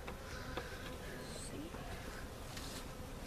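Faint, continuous buzzing of bees humming close by at a bee farm hive, a soft steady drone with occasional brief louder passes.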